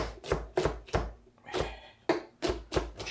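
A knife chopping tomatoes on a cutting board for concassé: a quick, even run of crisp taps, about three per half second, with a short pause midway before the chopping resumes, close and clear.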